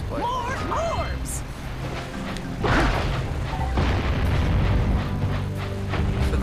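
Bombs thrown from a high ledge explode in the Jak and Daxter platform game, with heavy booming bursts and crashes under continuous game music and a voice talking over the action.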